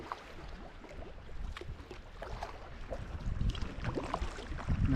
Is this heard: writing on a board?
no